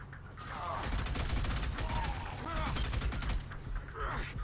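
Rapid bursts of gunfire from the sci-fi shooter game Alien Rage rattle on continuously at moderate level, dense repeated shots with mechanical clatter and faint voices underneath.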